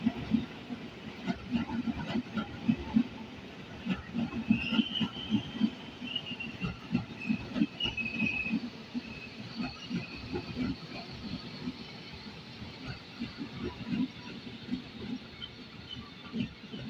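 KRL Commuter Line electric train at Depok Baru station in the rain, heard as a low, rhythmic rumble with repeated wheel thumps, steady hiss and a faint high squeal, with no talk over it.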